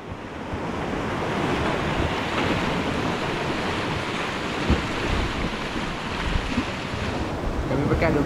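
Sea waves roll in steadily at the Tanjung Puteri shore while wind buffets the microphone, a loud, continuous wash of surf with brief gusty bursts and no voices.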